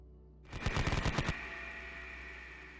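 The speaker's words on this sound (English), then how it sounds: "they're going to be opening fire with their HMGs at the battle frame infantry in the ruins" Heavy machine gun sound effect played during a tabletop wargame, a single rapid burst of about eight close, loud shots lasting under a second, then a ringing tail fading into quiet room tone.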